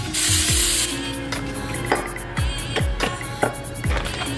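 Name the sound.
spraying coconut oil on a waffle iron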